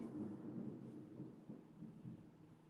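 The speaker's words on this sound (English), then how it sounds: "That's thunder and lightning." Thunder rumbles low and distant during a storm, a faint steady roll with a couple of swelling surges and no voices.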